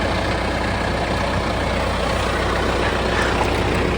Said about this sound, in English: I was just driving across the creek on the tractor and looked down.